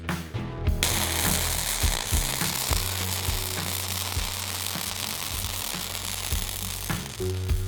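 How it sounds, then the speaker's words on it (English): A properly tuned welding arc from ESAB Coreshield 71T-8 self-shielded flux-cored wire, a loud, steady crackling buzz that runs continuously and close-up after a brief start, with no talking. "Listen to the sound of this properly tuned arc."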